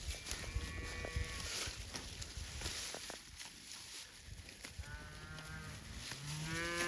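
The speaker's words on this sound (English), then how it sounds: "In 33, you're just a beautiful cow." Cattle moo outdoors on a farm as winter approaches: drawn-out lowing calls near the start and again toward the end, over steady wind-like background noise and faint shuffling.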